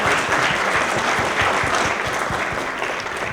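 Strong, steady applause from a panel audience bidding farewell to participant Miriam Ursúa Venegas, many hands clapping densely and evenly for the full few seconds.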